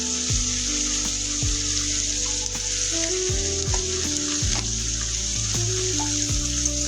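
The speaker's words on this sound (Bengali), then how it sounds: "এটাকে এখন আরো একটু ভাজা করে নেব" Beans and potatoes frying in a pan with salt, a steady loud sizzle with occasional stirring scrapes and clinks, no voices.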